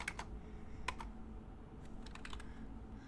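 Computer keyboard typing while writing HTML code, a few quick key clicks in short bursts, close and fairly quiet over a low background hum.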